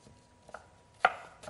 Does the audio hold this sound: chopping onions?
yes